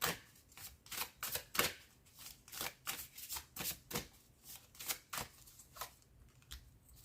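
Tarot cards being shuffled to draw a final card: a quick series of crisp riffling bursts, close and fairly quiet, repeating in a steady rhythm with no voices.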